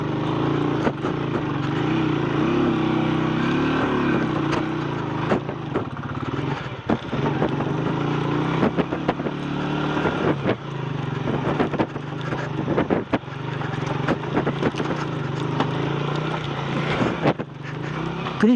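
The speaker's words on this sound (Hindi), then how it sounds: "मुसलसल बाइक पहले गियर में।" Motorcycle engine labors steadily in first gear along a rocky mountain road toward Nanga Parbat, a continuous close drone with wind buffeting the microphone and rattles from stones underneath.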